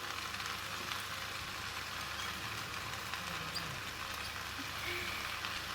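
Chinese chives hit hot oil with frying kuey teow noodles and shiitake mushrooms, giving a steady, close, even sizzle and crackle that runs unbroken throughout, with no talking.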